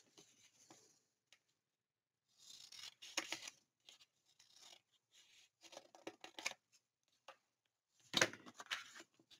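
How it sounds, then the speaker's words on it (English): Quiet, intermittent snips and rustles of scissors cutting paper, in short clustered bursts separated by silences, close by. "I may do that with scissors. So I would just trim off a little bit."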